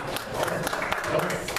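Audience clapping in a hall, a brief dense burst of applause with crowd murmur mixed in.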